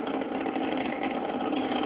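Space Shuttle Atlantis's three liquid-fuel main engines during launch on the final shuttle flight, a steady dense roar band-limited like a broadcast feed, continuous and loud with no voices.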